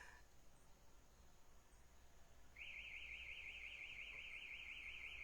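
A warbling electronic alarm starts suddenly about halfway through and keeps cycling steadily in a fast, wavering tone over a faint background hiss, loud and continuous to the end.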